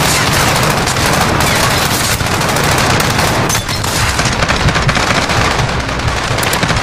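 Dense, continuous automatic gunfire from the Call of Duty Modern Warfare campaign, loud and relentless with rapid overlapping shots throughout.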